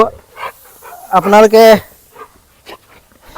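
A golden retriever stud male gives a loud, drawn-out bark-like cry up close, with faint panting breaths before and after it, while a person talks briefly.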